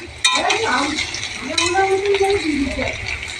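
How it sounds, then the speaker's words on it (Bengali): Potatoes and boiled masoor lentils frying in a pan, a close sizzle with utensil clinks and stirring scrapes, while a voice talks over it. "ভালো করে ভেজে নিচ্ছি"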